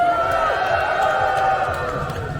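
A crowd at a candlelight impeachment protest rally in Cheongju shouts and cheers together, a sustained, loud roar of many voices lasting a few seconds with no break.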